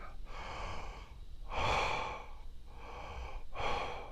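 Slow, steady breathing during meditation, with two long inhales and exhales in an even rhythm. The breaths are close and soft, with no talking.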